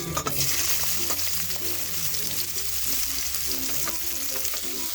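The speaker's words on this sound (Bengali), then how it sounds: "এখন দিয়ে দিচ্ছি দুটো কুচিয়ে রাখা, একদম ছোট ছোট করে কুচিয়ে রাখা পেঁয়াজ" Finely chopped onions hit hot oil in a pan and sizzle steadily, with a close crackling hiss and occasional stirring clatter throughout, with no talking.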